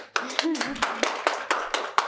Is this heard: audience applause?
yes